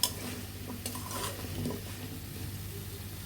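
Sweet pumpkin pieces stir-fried with sugar and spices in a pan, giving a soft steady sizzle with scraping stirs and a few light clinks, fairly quiet and without talk.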